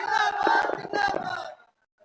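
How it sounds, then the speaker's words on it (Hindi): A crowd at a workers' rights conference in Gurugram cheers loudly, a burst of shouting voices over clapping that swells twice, then cuts off into near silence. "एक बार जोरदार तालियों के साथ"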